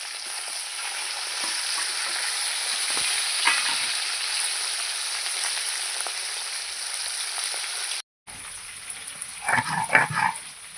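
Shingi fish fry in hot oil in a pan with a strong, steady sizzle and crackle, close up. A brief gap follows, then bursts of louder spattering with a dog barking faintly in the distance.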